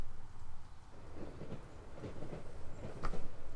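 Steady low rumble of a train ride inside the video game The Last Door, with soft rhythmic clatter of wheels and a faint ringing tone, continuous and muffled.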